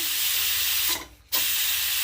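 Steam hisses loudly and steadily from a pressure cooker being vented after cooking pulao on a home stove, with one brief dip in the hiss partway through before it surges back at full force.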